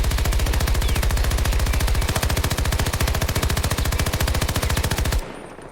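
An automatic weapon fires a long, rapid, unbroken burst in the Battlefield video game, loud and close with an evenly spaced rattling rhythm, stopping abruptly near the end.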